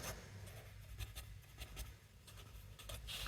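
Chalk or marker scratching out grammar on a classroom board in soft, quick strokes and taps, faint and close, with no talk.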